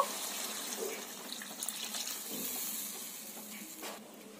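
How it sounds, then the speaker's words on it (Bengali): Water pours into a pan of fish curry masala, a soft, fairly faint steady splashing rush with a little hiss lasting a few seconds and no voices. "এবার পরিমাণ মতো জল দিয়ে দেব।"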